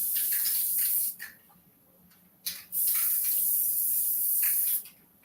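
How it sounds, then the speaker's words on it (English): A can of 505 spray adhesive hisses out in two long sustained bursts, separated by a short gap, close and fairly loud. "The doggone 505 spray exploded on me"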